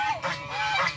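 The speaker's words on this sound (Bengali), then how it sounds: "শ্যাম যাচ্ছে রাজহাঁস ধরার জন্য।" A goose at a park gives two or three loud, close honks in quick succession within about a second.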